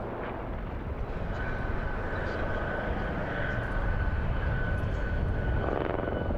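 A Westland Lynx helicopter performs at the RAF Fairford air show, its engine and rotor making a steady, loud, broad roar with a faint whine that swells slightly toward the end.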